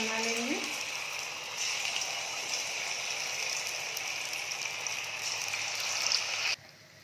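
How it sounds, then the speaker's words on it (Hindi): Batter pakoras for a fasting-day thali sizzle steadily in hot oil, a close, continuous crackling hiss that cuts off abruptly near the end. "हमारे पकौड़े तल गए,"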